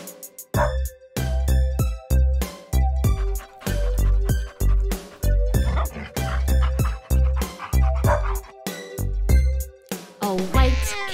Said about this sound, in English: A black dog barks real loud.